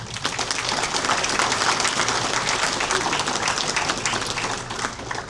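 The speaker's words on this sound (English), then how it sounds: "please give them a hand of applause" Applause from a gala audience at an anniversary celebration and awards ceremony, a full, sustained patter of many hands clapping evenly throughout, fairly loud and unbroken, with no voices on top.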